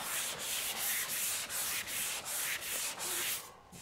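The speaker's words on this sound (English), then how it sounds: "so we're going to sand it off" A long sanding board works body filler on a 1957 Chevy convertible, making close, loud, rhythmic rasping strokes of roughly half a second each, with no talk.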